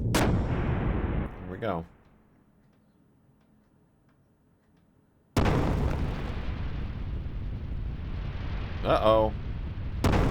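Heavy cannon blasts from a warship in the Xenogears video game: a loud booming burst opens, a quiet lull follows, then a second long roaring blast with a rattling tail, with a man's brief spoken remarks in between.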